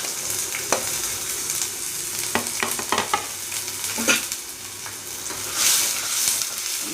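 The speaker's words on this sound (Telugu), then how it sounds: "ముందుగా నూనె పోసుకోవాలండి. ఉల్లిపాయలు వేసుకోవాలి." Onions fry in hot oil for a cashew and almond chicken curry, giving a steady close sizzle broken by scraping and clinking stirs in the pan.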